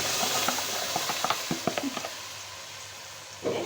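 Onions fry in a pot as tomatoes are added for stuffed cabbage and grape leaves, a soft bubbling sizzle broken by a run of quick clinks and stirring knocks, then a brief louder rush near the end.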